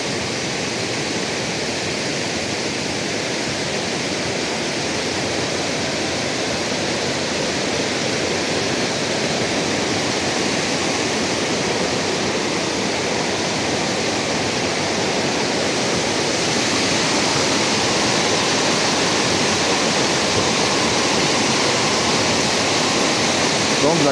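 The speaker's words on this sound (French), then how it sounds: "Vous voyez, là voilà la cascade de Guéraud." Gairaut waterfall, high in the hills of Nice, pours in a dense, constant roar of falling water that swells slightly toward the end.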